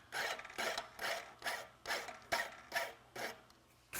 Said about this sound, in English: we're wire brushing it really good. Just getting the surface nice and clean